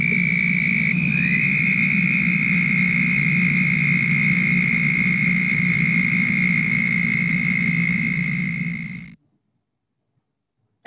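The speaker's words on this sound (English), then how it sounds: "That's our southern toad." A southern toad gives one long, steady, high-pitched trill that holds unbroken for about nine seconds and then stops abruptly, clear and close with nothing else heard.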